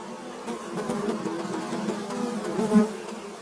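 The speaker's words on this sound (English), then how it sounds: "Some insects evolved to fly faster, hunting prey or escaping danger." Flying insects buzz close by in a steady, continuous drone that swells slightly toward the end, heard alone without any talking.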